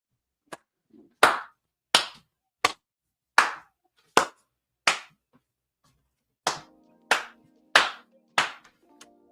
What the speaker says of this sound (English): I gotta stand up and get this man a round of applause